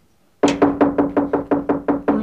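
Knuckles rap on a door in a quick run of about nine sharp, loud, evenly spaced knocks, close and with nothing else heard.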